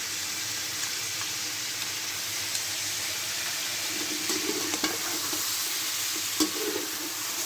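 Ginger garlic paste fries with mutton in a pan, giving a continuous soft sizzle with occasional stirring scrapes and clinks, moderately quiet and steady throughout.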